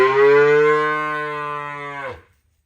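A single long cow moo, loud and close, held steady for about two seconds before breaking off, heard at a livestock market where cattle and sheep are sold.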